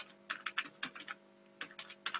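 Someone types a command on a computer keyboard while migrating Active Directory on a Windows server, producing quick clusters of soft key clacks with a short pause in the middle, close and quiet, with no speech.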